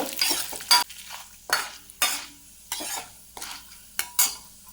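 Dried chillies frying in a pan for ginger chutney, with several distinct bursts of sizzling and stirring scrapes separated by short pauses, close and moderately loud with no talking.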